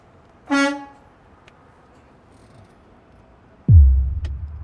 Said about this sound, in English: We're gonna turn the key on to check our city horn and the air horn.